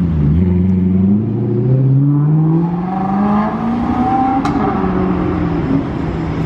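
A Ferrari 488 Pista engine revs with its exhaust valves closed, a loud, close rising and falling roar that climbs steadily in pitch over several seconds, with no talking.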